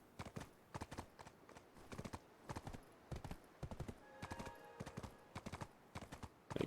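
Horse hooves clip-clop in a steady, even gallop rhythm in the Black Desert Online game, fairly quiet and close, with a brief tonal chime partway through.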